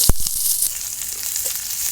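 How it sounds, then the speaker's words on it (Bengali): Chopped onion hitting hot oil in a kadai: a sharp burst of sizzling at the start settles into a steady, close frying hiss, with no talk. "এবারে পেঁয়াজ কুচিটা দিয়ে দেবো।"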